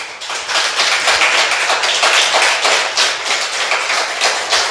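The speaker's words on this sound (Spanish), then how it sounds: "Dele un aplauso a Dios" A church congregation breaks into steady applause, dense overlapping claps filling the space at a loud, even level for several seconds with no voices standing out.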